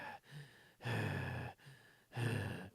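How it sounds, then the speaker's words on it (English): Heavy, uneasy breathing of the king character in the video game Sneak King, close and intimate, in long rasping inhale and exhale cycles that swell and fade twice with short pauses between. "breathing really uncomfortably into your ear."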